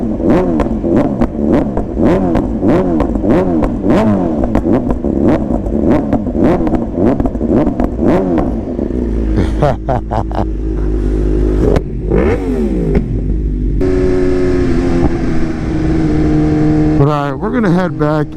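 A BMW M1000RR superbike with a flashed ECU idles with a loud, rapid, lumpy beat, then blips and revs sharply several times, rising and falling in pitch close up.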